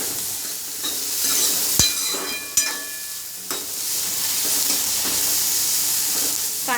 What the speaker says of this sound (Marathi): कांदा चांगला लालसर होईपर्यंत परतून द्यायचा।